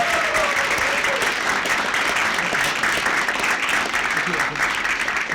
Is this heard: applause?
yes